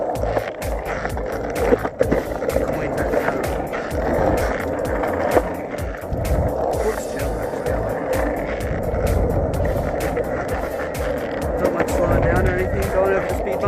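A Landyachtz ATV skateboard rolls over road pavement with a continuous gritty rumble of wheels and sharp clacks over bumps. Someone talks over it, and a car passes now and then.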